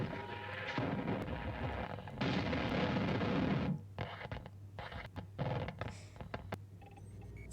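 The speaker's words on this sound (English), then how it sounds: "Sounded more like an explosion." A distant booming blast followed by scattered clanking and rumbling debris, with a dense roar for several seconds that breaks into irregular thuds and rattles.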